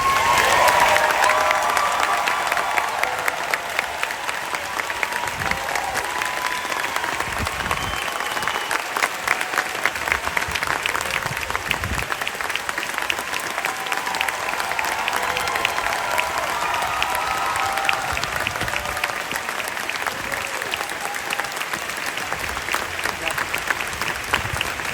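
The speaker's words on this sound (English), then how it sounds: "Keep that applause going." A large audience at Disney's Hollywood Studios applauds cast members during the park's 35th anniversary celebration, with steady, dense clapping lasting about twenty-five seconds and a few cheers mixed in.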